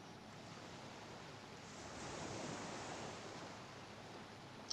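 Steady broadband wash of water and waves in EverQuest, an older online fantasy game, rolling at a fairly even level and swelling slightly midway, with no talk over it.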